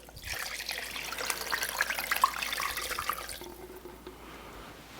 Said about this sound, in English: I'm gonna add water to fill it up the rest of the way.